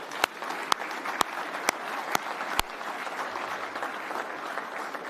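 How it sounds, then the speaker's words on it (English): Audience applause for the finalists at the Fieldays Innovation Awards evening, a crowd clapping steadily while a few sharp, louder claps ring out at regular intervals near the front during the first few seconds. "let's give a big round of applause for all the finalists tonight, please"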